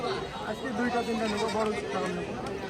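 A large goat bleats in a crowded outdoor livestock market in Natore, its wavering cries rising over a constant murmur of many voices.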